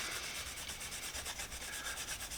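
A metal socket being rubbed with Scotch-Brite and number 7 polishing compound, a steady close scratchy scrubbing with quick back-and-forth strokes, quiet and alone.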